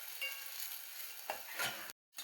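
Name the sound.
onion frying until reddish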